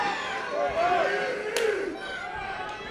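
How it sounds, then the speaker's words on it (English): Loud, roaring fight crowd at a Caged Aggression MMA event at Catfish Bend Casino, cheering and yelling continuously as the third and final round begins, with a commentator talking over the noise. "you can obviously tell that because this crowd's going nuts"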